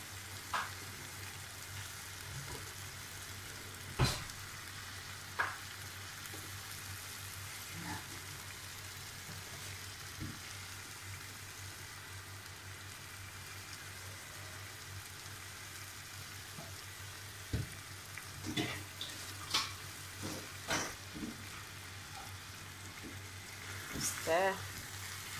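Steamed spinach is stirred into a frying pan for a fried-egg breakfast, giving a steady low sizzle with scattered scraping and clinking stir sounds, a few louder knocks near the end, and no talking.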